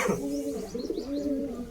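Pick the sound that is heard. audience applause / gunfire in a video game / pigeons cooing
pigeons cooing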